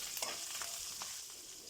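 Onions, curry leaves and cashews frying in oil for an all-purpose gravy, a soft, quiet sizzle with light stirring scrapes, brief and without talk.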